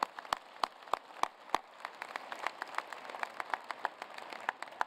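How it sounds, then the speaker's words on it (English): Scattered, sparse clapping from a thin audience at a fall university engineering commencement ceremony, with sharp individual claps standing out over a soft patter, steady for several seconds. "Let's give them a round of applause as well."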